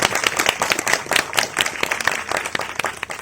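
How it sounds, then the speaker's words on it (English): Audience applause at the inaugural event of the Chitram Vastam art exhibition symposium, welcoming Professor B.N. Goswamy: a dense, steady patter of many hands clapping close by for several seconds. "Ladies and gentlemen, we welcome Professor B.N. Goswamy, sir. A round of applause, please."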